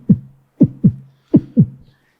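A human voice imitating a heartbeat, made close to the mic as paired low thumps repeated twice in a slow lub-dub rhythm, loud and dry with no other sound.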